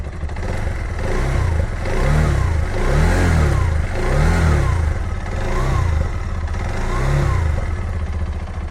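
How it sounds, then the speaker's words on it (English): A TVS Apache RTX 300 motorcycle engine runs close by in neutral, revving up and down in repeated rising and falling swells with a rough, clattering edge from new-engine harshness; no talking. "the engine harshness and the bell sound that I'm hearing from the engine right now"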